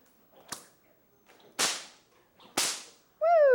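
Three sharp bullwhip cracks about a second apart, each a loud snap with a quick decay, followed by a brief rising tonal sound at the end.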